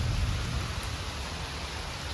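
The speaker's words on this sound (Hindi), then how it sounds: "देखै छियै बारिश भऽ रहल छै" Heavy monsoon rain pours down outdoors in Mithila as a dense, steady hiss with a low rumbling undertone, loud and continuous with no voices.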